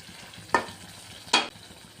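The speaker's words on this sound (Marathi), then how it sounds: "आता पूर्ण डाळ याच्यामध्ये ॲड करून द्यायची आपल्याला" Masoor dal is added to a sizzling masala and stirred in a pan: two sharp, close scraping swishes stand out over a low, faint sizzle.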